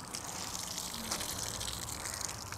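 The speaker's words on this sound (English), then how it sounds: "we take our wash mitt, dip it in the clean solution" A wash mitt dipped and sloshed in a bucket of clean car-wash solution, steady close splashing and gushing water throughout.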